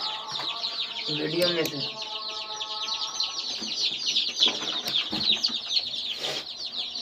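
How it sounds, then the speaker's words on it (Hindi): Small chicks cheeping in a dense, continuous chorus of high peeps near a quiet indoor spot, with a person speaking briefly early on. "अच्छा, छोटे छोटे चूजे।"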